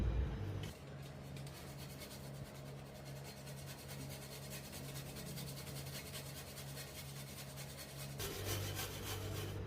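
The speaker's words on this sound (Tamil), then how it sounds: "இப்போ இதை துருவிக்கலாம். இந்த மாதிரி சின்ன ஓட்டை இருக்கும்ல," Boiled potatoes rub back and forth across a small-hole grater in a kitchen, a steady, soft rasping scrape that runs for several seconds before pausing near the end. It is close and fairly quiet, with no one speaking.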